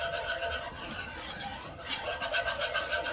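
Whisk scraping and stirring through bacon gravy as milk is worked in to break up lumps, a faint rough rasping and rubbing sound in uneven strokes, with no voices.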